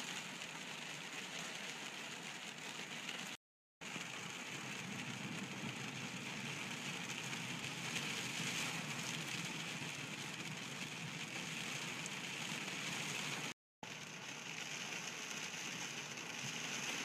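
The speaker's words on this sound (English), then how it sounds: "The rain, of course, is crazy." Heavy rain pours steadily in a dense, unbroken hiss high above Niagara Falls during a lightning storm, with two brief moments of silence.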